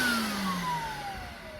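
A Numatic George vacuum cleaner switched on and running, a loud close motor whine with a tone that slowly sinks as it settles into a steady roar, no talking.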